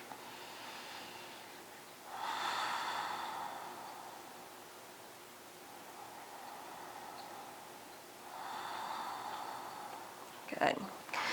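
Two deep breaths during a vinyasa yoga class, slow audible exhales a few seconds long, soft and airy over quiet room hiss.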